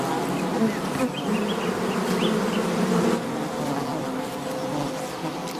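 Bees swarm around honeycomb raided by a honey buzzard, making a dense, steady, close buzzing that drones throughout with slight swells in loudness.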